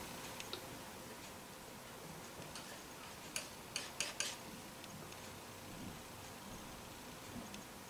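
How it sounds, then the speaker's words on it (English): Faint, close knife tapping against a hard surface comes as a few light, sharp ticks in a brief cluster over a quiet, hissy background. "You can hear my knife tapping away in the foreground."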